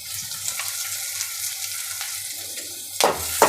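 Curry leaves sizzle in hot oil in a pan for a bottle gourd fry, giving a steady crackling hiss with a few sharper spattering bursts near the end.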